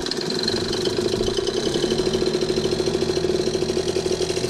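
Quad ATV engine idling steadily after starting, up close with a loud, rhythmic chugging pulse; it starts easily but has no power and dies when throttled, with a carburetor suspected of needing cleaning.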